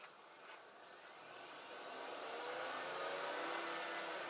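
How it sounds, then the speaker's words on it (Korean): A Chevrolet Spark LT (The Next Spark) engine revs up toward 4000 RPM, a faint whirring rise that grows steadily louder and holds, heard alone without talk. "엔진 소리 한번 들려봐 드릴까요?"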